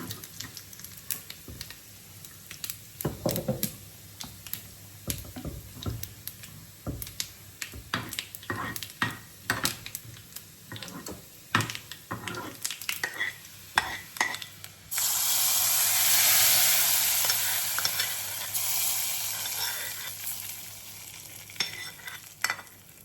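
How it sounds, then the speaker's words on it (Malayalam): Hot oil with fried mustard seeds, onion, curry leaves and dried red chillies is poured into a sweet potato curry. Scattered ticks and clinks come first, then a sudden loud sizzle bursts out and slowly fades over several seconds. "അങ്ങനെ കടുക് വറുത്തൊഴിച്ചു"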